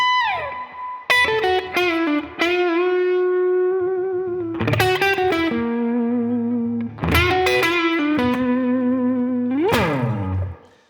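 Electric guitar blues lick built on the harmonic minor scale, played through effects: sustained distorted notes with bends and slides, a few phrases separated by short gaps, reverb trailing off at the end.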